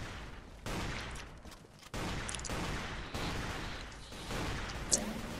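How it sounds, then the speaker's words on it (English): Gunfire in the video game Ace of Spades, with a sniper shooting from the mountains: a few sharp shots mark abrupt steps in a steady, fairly faint background of battle noise, with no talk over it. "There's somebody sniping from the mountains."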